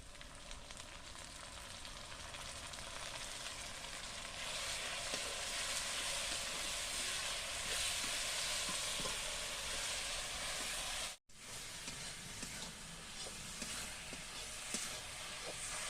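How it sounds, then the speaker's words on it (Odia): Ginger garlic paste frying with browned onions in a pan over a wood fire while mutton is being cooked, giving a loud, steady, close sizzle and hiss that carries on without a break apart from one brief gap. "ଏବେ ଅଦା ରସୁଣ ପେଷ୍ଟ ପକାଇଦେବା।"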